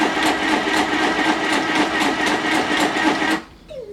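A WRMK Stitch Happy sewing machine sews a zigzag stitch, a close, loud, rapid mechanical chatter with even rhythmic pulses that stops abruptly near the end.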